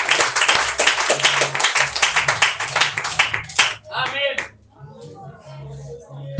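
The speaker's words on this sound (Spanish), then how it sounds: "Dale un aplauso al Señor, hermano" A church congregation gives a burst of close, sharp clapping for the Lord, rapid individual claps over a low hum for about three and a half seconds, then it stops and speech follows.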